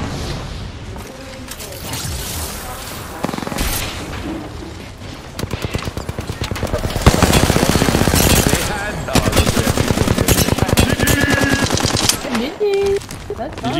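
Rapid automatic gunfire fills an Apex Legends team deathmatch. Bursts of dense, loud shots come in quick strings, with a talking player's voice heard between and over them.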